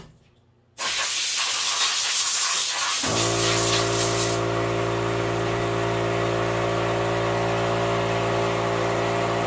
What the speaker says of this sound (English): I'm gonna hit this with the air compressor quick. I'm gonna give him a shot of compressed air.